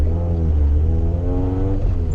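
A car accelerates hard at a car meet in a dig race, giving a loud, close engine drone whose pitch climbs steadily and briefly dips around a gear change.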